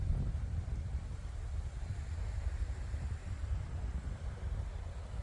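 Steady wind rumbles and buffets against the microphone outdoors during a DJI Mini 4 Pro drone flight in 10 to 15 mph winds, a low continuous roar with no other distinct sounds.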